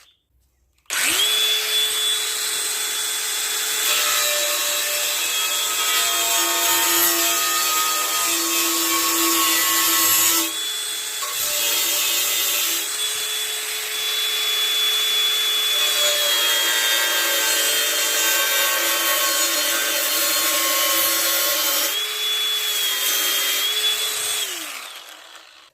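A power tool grinds steadily through a thick Schneider electrical consumer-unit enclosure for over twenty seconds, loud and close, with a high whine and brief dips in load.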